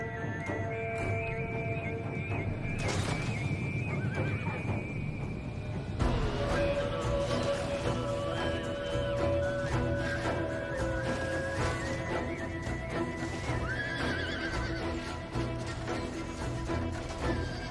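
Horses whinny and neigh repeatedly in a Total War: Attila battle, over a busy, clattering background of hooves and scattered clanks, with a louder burst of activity midway through.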